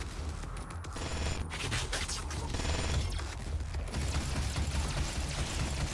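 Rapid bursts of pistol gunfire crack through a DOOM battle, dense and loud over mechanical clatter and game noise.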